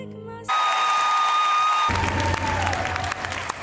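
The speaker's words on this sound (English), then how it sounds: "Simon, sit down, stop clapping." A studio audience at The X Factor live show bursts into loud, steady applause with some cheering, the clapping swelling abruptly and continuing close and full.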